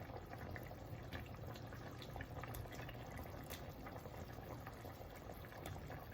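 A pot of chicken afritada boils steadily, with a dense, continuous bubbling and seething close by, occasional small splashes and no voices.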